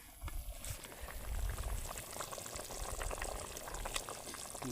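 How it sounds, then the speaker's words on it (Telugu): A tamarind fish curry bubbles and sloshes in a pot at a rainy campsite as fish are slipped in, a faint continuous boiling burble with small splashes and no clear talking. "పులుసు అయితే రెడీ అయిపోయింది ఇప్పుడు చేపలు అయితే వేసుకుందాము"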